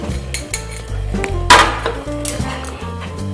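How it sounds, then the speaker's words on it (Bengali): Cooked semolina being worked with flour in a pan for a traditional Bengali Chitrakut sweet: steady scraping and knocking of a utensil against the metal pan, repeated clatters close by and fairly loud. "এবার আমি ময়দাটা আস্তে আস্তে মাখাতে থাকছি।"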